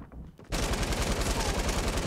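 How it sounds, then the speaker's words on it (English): Pump shotgun fire in the Fortnite battle royale game, a loud blast bursting in after half a second of quiet and followed by a dense, continuous roll of gunfire and game noise. "It's a pump shotgun."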